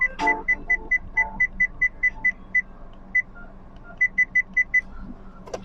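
Reverse gear warning in a 2021 Mitsubishi Attrage 1.2 GLX automatic: a regular series of short, sharp electronic beeps repeating steadily, pausing once and resuming, clear and close inside the cabin.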